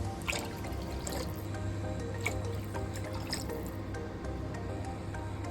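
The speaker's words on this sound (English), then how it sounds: "And then we add 6 cups of water." Six cups of water go into a pan of sautéed minced garlic and onion, giving a steady splashing, dripping pour that runs the whole time, close and moderately loud, without talk.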